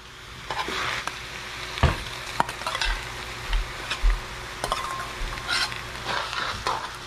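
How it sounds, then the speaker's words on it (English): Drained sweet potato noodles and shrimp cook in a pan with oyster sauce, a steady sizzle broken by repeated scraping stirs and light clanks of a utensil, close and clear. "now we're going to put our drained noodles in here,"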